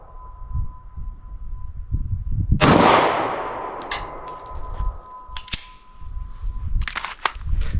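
A single sharp, loud Glock 43X pistol shot fired outdoors under an awning, its crack trailing into a ringing decay, followed by a few fainter clanks and knocks.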